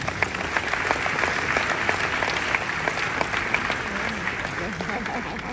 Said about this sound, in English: Let's clap for Ghanaian women.